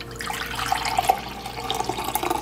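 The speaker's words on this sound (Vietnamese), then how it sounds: "Giờ mình sẽ rót cái phần nước này ra" Liquid from Korean soy-marinated crab is poured off into a container, a steady close trickle and splash with small drips, continuous and moderately loud with no talking.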